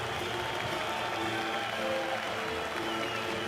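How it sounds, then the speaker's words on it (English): Lithuanian crowd applauding Italian boxer Salvo Cicerone as he leaves the ring after his bout, a steady dense wash of clapping and crowd noise throughout, with faint voices mixed in. "Salvatore gets applauded as he leaves the ring by the Lithuanians"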